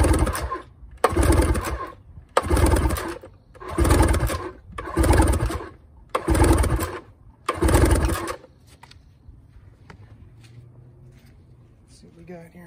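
A 25hp 2007 Yamaha two-stroke outboard pulled over by its recoil starter at wide open throttle during a compression test, seven loud rhythmic cranking bursts about a second apart, then a quiet low hum.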